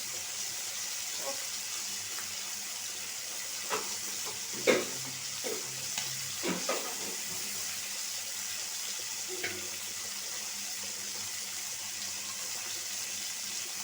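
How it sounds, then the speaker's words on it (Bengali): Steady sizzling of catla fish heads frying in oil, with occasional soft clinks and scrapes of a utensil, no talking. "তিনটা মাছের মাথা ভাইজা নিব"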